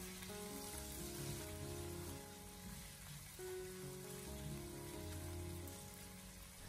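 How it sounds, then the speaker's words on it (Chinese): Pork shoulder fries in a little oil in a wok over low heat, giving a soft, steady sizzle with light stirring under quiet background music. "将切好的梅花肉给它放进锅里面，开小火先把它翻炒一下，先将梅花肉给它煸炒出多余的油脂"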